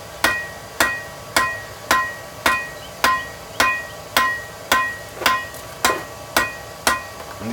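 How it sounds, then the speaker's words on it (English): Hammer blows on tongs being forged over an anvil, twelve sharp ringing strikes in a steady, even rhythm, each ending in a short metallic ring, loud and close with no talking. "go right to the far side of the anvil, kind of tilt your hammer to the side and stroke at an angle"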